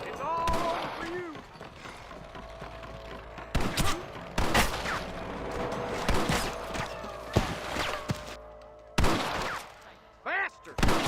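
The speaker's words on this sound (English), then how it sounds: "Damn fine shooting, boys." Gunfire in Red Dead Redemption, irregular sharp shots and volleys, some close and loud, others scattered, mixed with mechanical clicks and shouting voices throughout.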